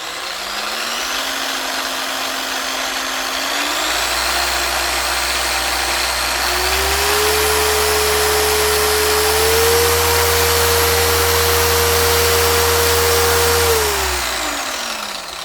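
Chemical Guys TORQ 15 dual action random orbital polisher running at higher speeds, a loud steady motor whine that climbs in pitch in steps as the speed is raised, then winds down near the end.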